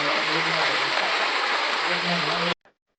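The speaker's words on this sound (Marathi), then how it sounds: "पायऱ्यांवर धबधबा" Waterfall pouring over stone steps of Lohagad fort, a loud steady broadband rush of falling water that cuts off abruptly near the end, with a voice faintly underneath.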